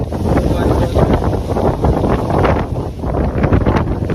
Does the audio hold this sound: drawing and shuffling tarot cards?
no